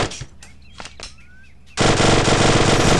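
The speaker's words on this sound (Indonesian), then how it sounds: "Kita tembak saja dia." Scattered single shots at first, then a loud sustained burst of rapid automatic gunfire in a video game that continues to the end, close and dense.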